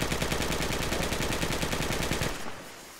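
Sustained automatic gunfire from the Project Reality military shooter game, a loud, dense rattle of rapid shots lasting about two and a half seconds before cutting off to quieter background.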